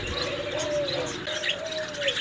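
Lutino lovebirds in a breeder's cage give a stretch of chirps and whistled calls, several overlapping, moderately faint against a busy background hum.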